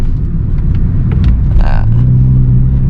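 A Honda Jazz GK with a titanium exhaust tip rumbles at around two to three thousand rpm with a deep, steady exhaust drone, holding a low growl throughout, with a brief voice partway through.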